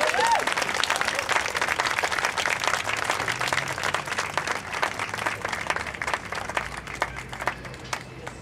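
A crowd at an outdoor rally against mining on Anishinaabe territory claps and applauds steadily for several seconds, dense and fairly loud, gradually thinning toward the end.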